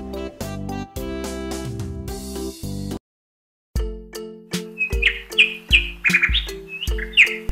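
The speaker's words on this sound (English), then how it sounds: "Did you know that nightingales get their name because they often sing at night" Nightingale song, bright chirping phrases repeated over a bouncy children's music backing, clear and prominent after a short pause in the music.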